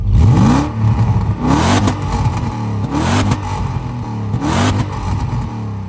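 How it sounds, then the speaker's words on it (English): A BMW E39 540i V8 with only a back box for exhaust revs up and falls away in several repeated, throaty surges, loud and close, with no talking. "Gotta love a German 8-cylinder soundtrack."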